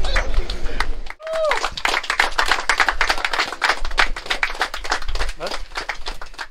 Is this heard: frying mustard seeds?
no